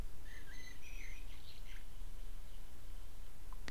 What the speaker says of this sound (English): What's up with that bird, seriously?